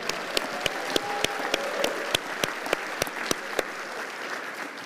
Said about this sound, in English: Fans, let's give a round of applause for our Hall of Famer, Antonio Houston.